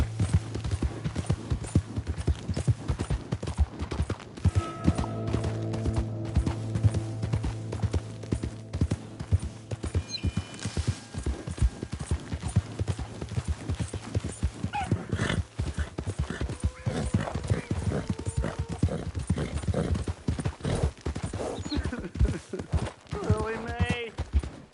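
Horse hooves clip-clop at a rhythmic gallop in the video game Red Dead Redemption 2, loud and continuous, with occasional whinnies and game sounds and a voice speaking briefly.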